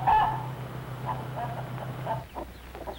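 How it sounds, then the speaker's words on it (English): Two-month-old, nearly grown chickens cluck in a few short, close bursts over a low steady hum. "2-month-old chickens and almost grown up"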